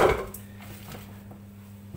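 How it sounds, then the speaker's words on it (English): Chopped butternut squash tumbles into a Morphy Richards soup maker pot with one quick, close clatter of chunks hitting the pot, then a quiet tail with no talking. "I'm just going to throw in the butternut squash"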